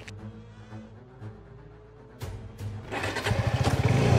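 A motorcycle engine cranks with a few sputters, then catches and revs up into a loud, rising, pulsing run at close range.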